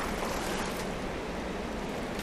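A game character wades through cold water in Far Cry Primal, giving a steady, dense sloshing and splashing wash that stays loud throughout with no pauses.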